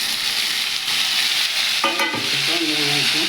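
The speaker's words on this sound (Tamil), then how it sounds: "தக்காளியும் போட்டு போட்டு நல்லா வதக்கிக்கலாம்" Tomatoes and onions sauté in a pan for a prawn pepper gravy, a steady close sizzle under a spoon stirring and scraping, with no voices.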